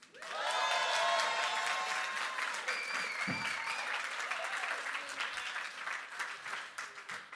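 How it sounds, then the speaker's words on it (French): An audience applauds at a stage performance, a steady, fairly distant wash of clapping that carries on for several seconds with a few voices calling out over it. "notre soubrette, on peut l'applaudir."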